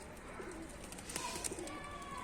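Black baska pigeons on a rooftop, soft low cooing in a couple of short phrases, fairly faint against a steady outdoor background hiss.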